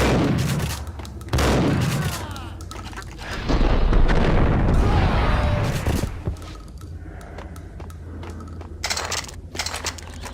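Loud gunfire in the shooter Max Payne: dense volleys of shots and booming blasts, with crashing impacts and a sustained roar in the middle, fading to scattered cracks near the end.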